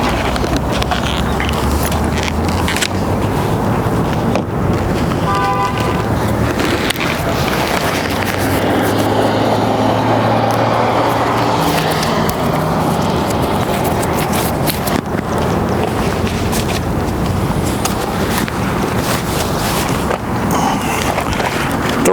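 Ride on a 2002 Honda Reflex scooter fitted with an Armac sidecar: loud, continuous engine drone with shifting pitch, heavy wind buffeting and road rumble, no talking.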